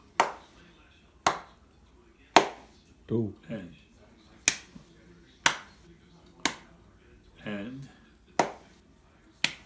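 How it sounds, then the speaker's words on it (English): Sharp hand claps in a piano class, struck one at a time in a steady rhythm of about eight claps, close and crisp, while a teacher counts aloud between them. "Now clap it."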